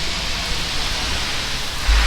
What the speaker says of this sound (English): It's raining just a little bit, but I'm pretty sure the rain is gonna come back again.